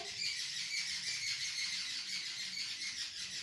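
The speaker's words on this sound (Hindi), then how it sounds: "देखो कितना कितना शोर मचा रही, देख रहे हो आप लोग।" Dense, continuous high-pitched bird calls fill the air, a noisy chorus of squawks and chirps with no talking.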